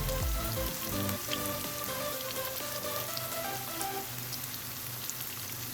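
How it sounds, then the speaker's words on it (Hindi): Onions frying in a pan as the base for a veggie macaroni dish, a dense, steady sizzle and crackle that stays loud and close throughout, with no talking. "ये प्याज हमारी फ्राई हो रही है"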